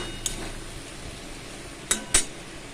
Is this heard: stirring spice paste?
yes